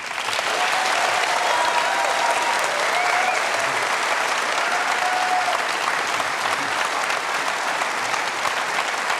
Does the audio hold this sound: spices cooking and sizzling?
no